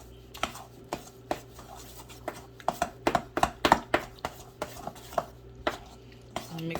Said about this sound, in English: at this point, we just want to mix everything together